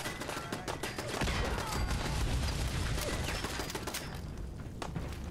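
A grenade blast in Fallout 4 booms through a dense stretch of game gunfire and crackling debris, the rumble swelling and then thinning out over several seconds.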